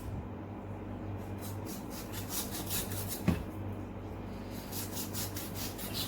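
A sharp knife rasps steadily through tough shark skin, a faint, continuous scraping friction with one brief crisp snap midway.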